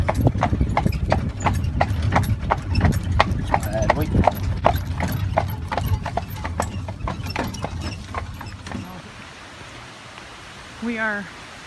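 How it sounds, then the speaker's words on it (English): Horse hooves clip-clop in a steady, fairly close rhythm as a horse pulls a carriage along the Ring of Kerry in Ireland, with road and wind noise beneath; the hoofbeats stop near the end, leaving a quieter stretch with a brief sound. "We took a carriage, horse and carriage ride."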